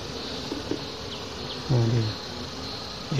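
Honey bees buzz steadily around their nest, a continuous close insect drone with a few louder passes as individual bees fly near.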